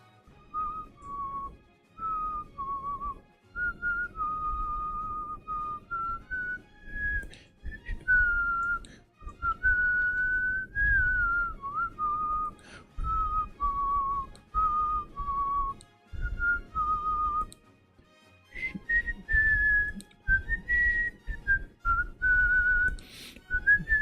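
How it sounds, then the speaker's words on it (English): A person whistles a high, clear melody alone in a quiet room, in short phrases broken by brief pauses, with the pitch wandering up and down across roughly twenty seconds. "I can't whistle that high."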